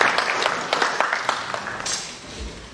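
Seminar audience at the University of Goroka applauding a speaker, a sustained patter of many hands clapping at moderate distance that thins out toward the end.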